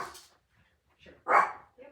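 A dog barks at a passing mail truck indoors: a couple of sharp, fairly close barks separated by brief pauses, with some quieter whimpering sounds between them.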